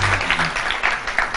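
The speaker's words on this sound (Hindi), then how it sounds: "तालियां होनी चाहिए इसके" Studio audience applause on a Pakistani morning talk show, a dense wash of clapping at steady loudness that fills the short moment, with faint voices mixed underneath.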